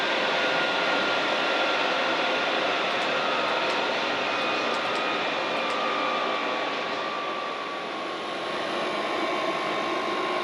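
A Chinese diesel heater runs steadily after start-up with a continuous broadband roar and whine, loud and close, holding a constant level throughout with a slight dip near the end.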